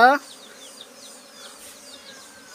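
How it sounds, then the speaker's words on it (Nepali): Bees arriving at a house make a faint, continuous buzzing with repeated passing wingbeat whines close by, after a brief louder tone at the start. "आजै मौरी आयो"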